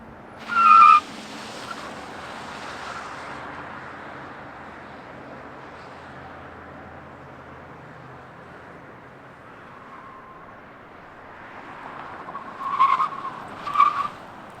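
A 2023 Volvo XC40 Recharge Ultimate Twin electric SUV with over 400 horsepower drives along, a steady hum of road and tire noise with short, sharp squeal-like bursts at the start and again near the end. No one speaks.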